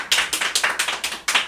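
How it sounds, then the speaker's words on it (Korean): Crisp hand claps in a regular quick rhythm, about a dozen sharp slaps over a second and a half, sounding like a small group or single person clapping at an interview, close and alone without speech. "박수를 치시고 박수를 좀 세게 치십시오."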